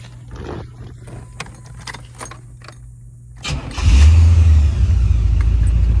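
A 1984 Chevrolet Corvette with a new fuel pump and fresh gas cranks and fires up after some close clicks and rustles, then settles into a loud, steady idle.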